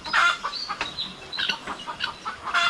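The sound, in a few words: chickens clucking, rooster with hens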